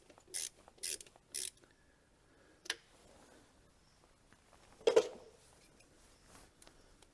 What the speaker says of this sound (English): we'll undo this clamp now with a 5mm Allen key, or 5mm Allen socket like this one.